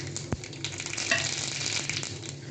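Mustard seeds crackle and sizzle in hot peanut oil in a pan, a steady close frying hiss with small pops and one sharp crack near the start.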